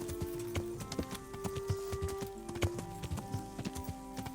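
Hooves of a horse in the video game Kingdom Come clip-clop in a quick, steady rhythm, close and clear, over music and a faint neigh.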